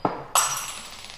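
A drinking glass breaks in a pub, heard as a faint first clink followed by a brighter sharp crash of glass whose shimmer trails off over about a second, with no talking.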